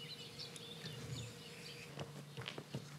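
Bees buzzing over a meadow outdoors, a steady low hum from several insects with brief louder passes near the end, no talking.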